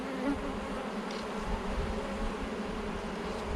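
Honey bees buzz steadily around an open beehive during an inspection, a dense, close, continuous drone of many insects with no voices.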